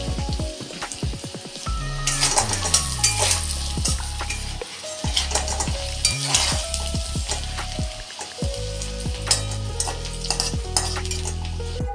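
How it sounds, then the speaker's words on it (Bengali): Turmeric-and-salt potatoes sizzle steadily in hot oil in a kadai while a utensil scrapes and stirs the pan repeatedly, with clinking metal throughout. "তো আমার আলুগুলো ভাজা হয়ে গেছে"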